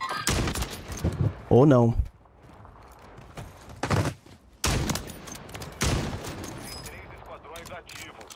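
Sniper rifle shots and gunfire in the video game Warzone, a few sharp bursts spread across the clip, with someone talking over the game sounds.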